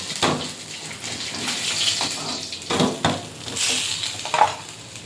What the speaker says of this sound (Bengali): দিয়ে ক্যাংরোলের আলুটা ভেজে নেব।